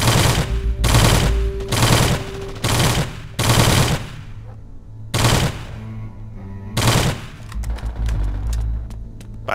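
Gunfire at shooting-range targets in the Spanish-language video game El Matador: several loud rapid bursts of automatic fire in the first four seconds, then sparser bursts and single shots over a low hum, with no talking.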